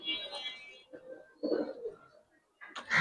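Red-patch pigeons coo in soft, close, throaty bursts, several calls spaced with short pauses, with a faint voice in the background at a pigeon market.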